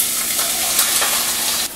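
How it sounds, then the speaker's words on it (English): Onion sizzles loudly in hot oil as it is stirred, a steady, close, bright frying hiss with faint scraping through the short stretch. "I'm gonna start with the onion. I'm gonna put it into my hot oil."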